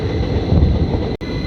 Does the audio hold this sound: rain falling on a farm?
no